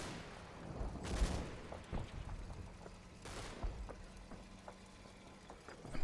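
Gunfire and explosions in Combat Mission: Battle for Normandy, two sharp heavy volleys over a low, distant rumble with scattered lighter pops and thuds between them, fairly faint overall and no talk.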